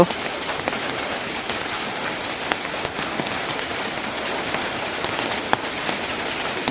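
Steady wind-driven rain pours down on surfaces all around, a dense continuous hiss with scattered heavier drops and no voices.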